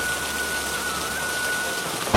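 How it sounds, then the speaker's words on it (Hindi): Heavy rain pours steadily in an animated story scene, a dense continuous hiss with a faint whistling tone, ending in a sudden loud burst. "इतनी भारी बारिश हो रही है।"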